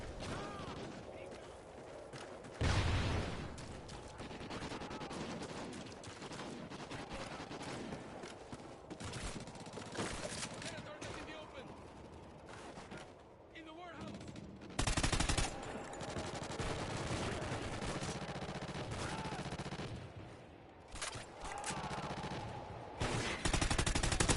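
Call of Duty: Ghosts team deathmatch gunfire: rapid automatic bursts and repeated shots, loud and dense across the whole stretch, with a player talking over the game audio.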